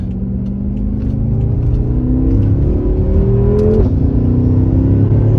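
A tuned 600 hp BMW F10 M5 accelerating hard during an overtake, its engine note climbing steadily through the gears, with a brief dip at a shift before surging again, loud and close from inside the car.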